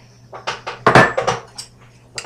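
A quick series of light clinks and knocks from a spoon tapping against a microwave-safe bowl, close and irregular with no talking.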